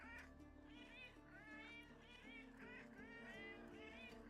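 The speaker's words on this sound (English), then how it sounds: "I think that thing just meows at you." A Diablo IV summoned cat creature meows over and over in short, wavering cries at a quick, uneven pace. The meows sit over a low game drone and are faint overall.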